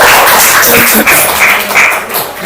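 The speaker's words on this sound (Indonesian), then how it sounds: "aplaus untuk Ustazah" Applause for a teacher at a school gathering, a brief burst of clapping from a group that stays full and steady for a couple of seconds before fading slightly.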